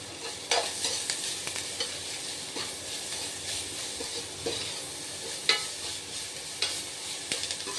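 Sliced onions with salt sauté in a pan for anchovy dried-fish curry, a constant low sizzle broken by scraping stirs and sharper clacks of the spoon against the pan.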